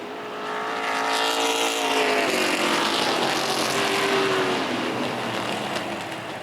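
Race cars roar around an oval track, including a number 2 car running the high side, the engine note swelling as the pack passes close and loud, then easing slightly as it moves away.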